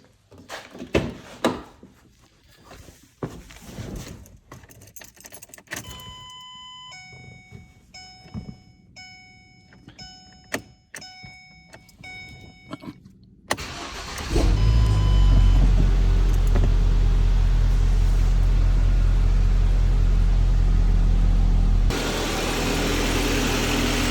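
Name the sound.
car engine starting and running after valve cover seal replacement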